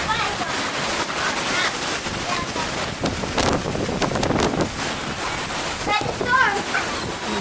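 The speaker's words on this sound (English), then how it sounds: "Really, really windy." Strong gusty wind buffets the microphone outdoors during a flooding storm, a constant roar with blowing rain and surges of noise, while a person talks over it.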